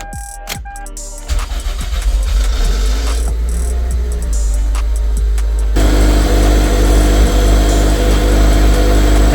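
A Toyota MR2 Spyder with a 2ZZ engine cranks briefly and then catches after an alternator replacement, settling into a loud, steady idle that steps up in pitch partway through.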